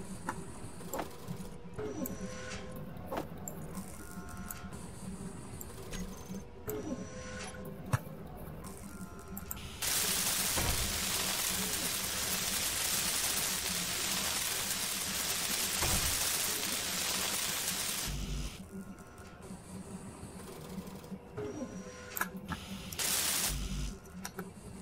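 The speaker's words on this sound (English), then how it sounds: "As soon as I pack the rest of the stone in, I will start welding." A hand welding tool in Space Engineers hisses as a loud, continuous broadband spray that starts abruptly, holds steady for several seconds, then cuts off, with fainter game machinery sounds around it.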